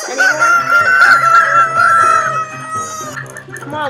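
Chickens in a Minecraft coop cluck and crow loudly and close by, a busy overlapping run of squawks and clucks that continues without letup.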